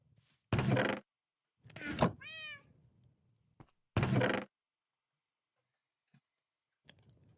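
A cat meows once in Minecraft: a short, rising-and-falling harmonic cry. Louder thumps and clicks of game actions come just before and after it, with faint small taps later on.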